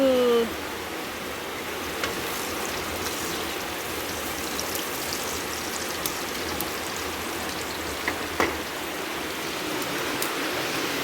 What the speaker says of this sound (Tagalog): Naligo na pala. Lakas ng ulan.